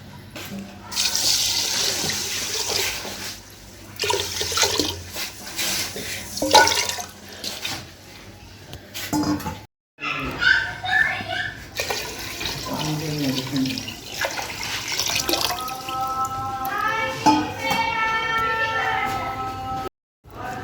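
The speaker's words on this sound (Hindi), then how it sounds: "तकरीबन हम इसमें 2 किलो पानी शामिल करेंगे" Water runs and splashes into a cooking pot as about two kilograms of water is added to semolina and sugar for halwa syrup, a steady pour under faint kitchen noise; a voice speaks near the middle.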